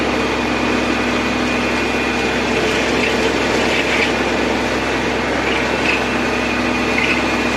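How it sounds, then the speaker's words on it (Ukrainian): A Mateng mulcher runs behind a tractor, cutting vegetation with a loud, constant engine drone and a dense whirring roar that holds steady throughout, with no talking. "Ось отак працює матенг мульчер."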